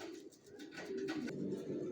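Pigeons of a racer breed coo steadily in low, rolling calls, several birds overlapping at moderate loudness with a continuous murmur from the loft, no talking.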